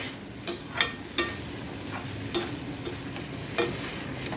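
Ridge gourd poriyal with poriyal powder and peanuts being sautéed in a pan: soft continuous sizzling broken by several sharp scrapes and clinks of a spatula against the pan, close and fairly quiet, no talk.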